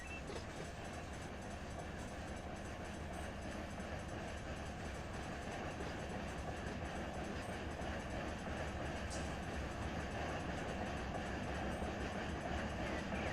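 A train locomotive running at notch 3 in Run 8 Train Simulator, giving a low, continuous engine drone with faint rail rumble, steady and fairly quiet throughout.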